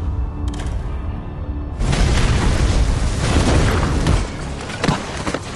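A bomb detonates in a mafia revenge film, a sudden massive blast that roars into a long dense rumble with crackling debris, loud and sustained for several seconds before tapering off.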